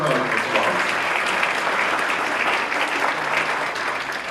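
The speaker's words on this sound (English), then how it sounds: "Let's give her a round of applause." At a student recognition event, an audience applauds in a steady, dense wash of clapping that holds for several seconds and fades slightly at the end.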